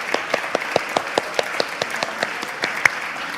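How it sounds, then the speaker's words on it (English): A church congregation applauds its volunteers, a steady patter of many hands clapping with sharp individual claps standing out, moderately close and continuous without talk. "let us give you a round of applause because we love you"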